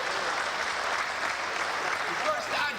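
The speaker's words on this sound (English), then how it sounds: "We applaud you." Steady applause fills a gathering at a talk on African people and European holidays, dense clapping held at an even level throughout, with faint voices and calls mixed into the crowd.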